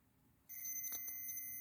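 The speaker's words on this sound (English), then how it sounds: "So there's the buzzer." A hair dryer's electric buzzer switches on abruptly partway through and holds a constant high tone, with a couple of brief clicks as it starts, after its contacts were cleaned.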